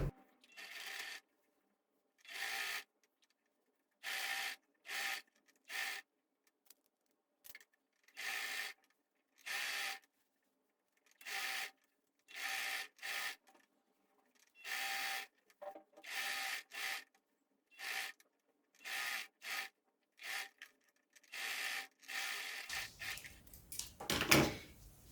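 A domestic sewing machine stitches piping onto fabric in short repeated bursts of rapid mechanical whirring, separated by brief silences, close and clear.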